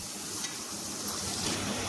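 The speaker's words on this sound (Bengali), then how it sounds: "কড়াইতে পেঁয়াজ কুচি দিয়ে দেয়া হলো। এখন পেঁয়াজটাকে খুব ভালো করে ভেজে নিতে হবে" Chopped onions fry in a wok for a prawn dopiaza, giving a dense, steady sizzle with occasional soft stirring scrapes, close and uninterrupted by voices.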